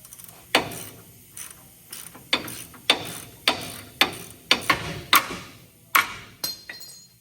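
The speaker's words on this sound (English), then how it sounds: "now we're just getting this upper control arm unbolted" Ratchet wrench clicking in short, repeated bursts while an upper control arm is unbolted on a Duramax truck during a solid axle swap, with close, sharp metallic strokes and brief pauses between.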